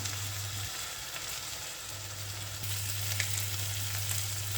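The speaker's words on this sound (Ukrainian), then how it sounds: "перемішувати, щоб вона у нас трошки підсмажилась, але найголовніше, щоб не пригоріла" Pearl barley sizzles softly in a hot pan, a quiet steady crackle with occasional stirring clinks, over a low hum in the background.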